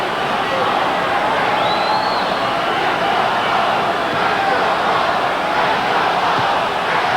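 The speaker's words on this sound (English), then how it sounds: "The Madison Square Garden crowd trying to get behind Riddick Bowe" A dense, steady roar from the Madison Square Garden boxing crowd cheering Riddick Bowe in his fight against Golota, loud and continuous throughout, with a wash of overlapping voices.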